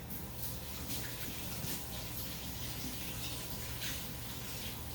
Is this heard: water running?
yes